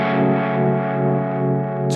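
An electric guitar chord sustains through a harmonic tremolo effect on an HX unit, a dense, slightly driven tone that pulses gently for two seconds and is heard alone at close range.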